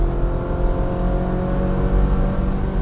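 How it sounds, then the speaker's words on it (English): A Ferrari 458 Spider engine roars loud and close, a sustained, full-throated rev with a deep, steady drone and no voices over it. "This car is loud, but it sounds amazing."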